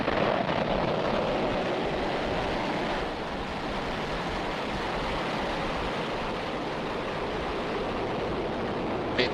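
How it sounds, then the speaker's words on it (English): Rocket engines roaring at liftoff on December 12, 2022: a dense, sustained broadband rumble like heavy surf, steady and loud throughout with a slight drop partway, no voices. "Liftoff."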